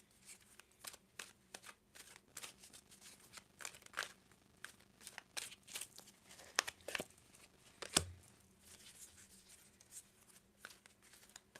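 A deck of oracle cards is handled and shuffled close up in soft, repeated riffling bursts, with papery crinkles and a sharper slap partway through, all faint.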